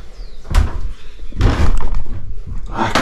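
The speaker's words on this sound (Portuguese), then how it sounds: "Cheguei batendo na porta já." Heavy thuds land on the door of an old, century-old mansion in need of restoration, a few loud booming knocks around the middle of the clip over a noisy, rumbling background.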